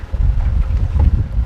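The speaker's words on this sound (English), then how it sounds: "It's not too bad windy right now." Wind buffets the microphone on a fishing boat, a steady low rumbling roar that fills the whole short stretch without any voices.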